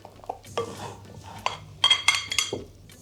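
A spoon or spatula gently folds wet and dry ingredients together in a big bowl for refined-sugar-free, dairy-free white chocolate and hazelnut cookie dough. Soft, irregular stirring scrapes and a few light clinks against the bowl sound close by.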